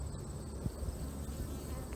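Honeybees buzzing inside a Layens hive, a dense, close, continuous hum of many bees with no voices.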